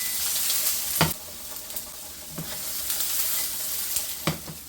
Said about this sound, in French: de faire une petite garniture avec des oignons et de l'ail qu'on va faire sauter